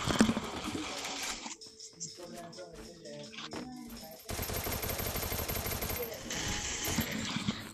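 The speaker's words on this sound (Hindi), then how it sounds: "कितना ओपी फायरिंग चल रहा है" Gunfire in the Free Fire battle game comes as dense, rapid automatic bursts and scattered shots, loud and near, over a constant busy game soundscape with a voice talking.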